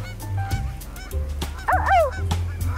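Waterfowl at a zoo give honking calls, a cluster of loud nasal honks mid-clip over steady low background rumble, with several short knocks and thumps scattered throughout.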